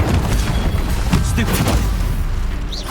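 Magic spell blasts from Confringo and Incendio in Hogwarts Legacy go off in a dense, continuous run of booming, fiery bursts that stay loud throughout, with a mid-range voice-like sound woven through the blasts.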